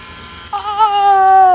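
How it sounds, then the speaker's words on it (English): A tiny miniature leaf blower starts up with a sudden thin, high motor whine that holds steady and close for about a second. "world's smallest leaf blower."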